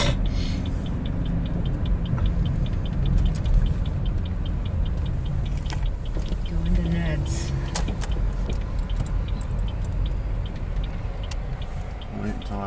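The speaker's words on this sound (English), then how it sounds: "that was another trailer truck" A trailer truck drives past on a road, heard as a broad steady rumble of traffic noise from inside a vehicle, with people talking at intervals over it.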